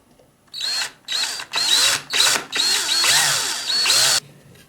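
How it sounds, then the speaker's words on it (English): An electric drill bores a hole for an LED in a wireless Kill A Watt meter project. It runs in about seven loud, close bursts that rise and fall, with short gaps between them. "So now I have to drill a hole"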